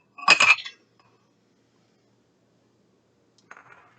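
Ice cubes dropped into a blender for an apple milkshake: a bright clattering clink of cubes hitting the jar, then a softer second rattle a few seconds later, with silence between.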